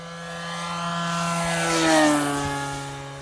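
Quarter-scale Great Planes RV-4 model airplane engine howling at full power, a loud sustained propeller drone with steady harmonics that swells and shifts pitch slightly as it passes, heard alone without talk.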